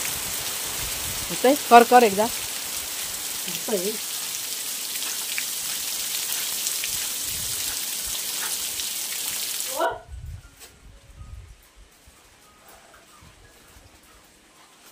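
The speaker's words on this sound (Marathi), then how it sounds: "पाऊस आला" Steady rain falls on a surface outdoors in rural Maharashtra, a dense hiss of drops heard under intermittent talk before it cuts off abruptly, leaving quiet voices.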